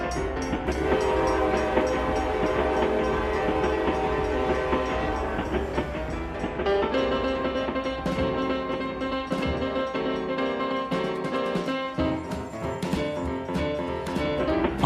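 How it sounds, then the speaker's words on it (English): A freight train pulls out of a rail yard at night, with loud continuous rumbling, squealing metallic tones and rattling cars, and sharp clanks and knocks from the couplings toward the end. "On an empty boxcar pulling out of the freight yards at night"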